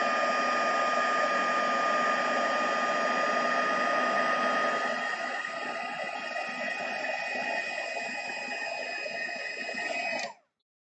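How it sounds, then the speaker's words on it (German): An embossing heat gun blows with a steady, loud whirring hiss and high motor whine, running for about ten seconds before switching off abruptly. "kommt mein Embossing-Föhn zum Einsatz"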